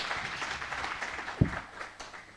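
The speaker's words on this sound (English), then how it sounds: "A round of applause for Catherine." Applause from an audience at a Kenyan investment learning event, a dense steady patter of clapping at moderate level with one sharper clap standing out near the middle.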